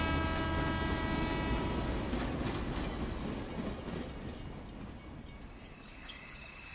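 A cartoon train pulls into a quiet country station at night, its wheels clattering and rumbling loudly at first and then easing off as it slows, with faint insect chirps in the background.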